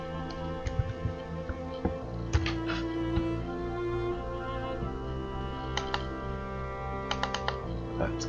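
Scattered keystrokes on a computer keyboard as a short widget name is typed, sparse clicks over a steady tonal background hum.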